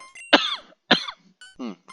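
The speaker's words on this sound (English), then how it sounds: "I thought my cough was all the way gone" A person coughs in sharp bursts while lingering after an illness: two strong close coughs followed by a softer, raspier throat-clearing cough, with brief silences between.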